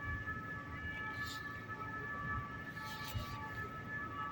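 A police or ambulance siren wails faintly in the distance over a low background rumble at night in Paris, steady and far off.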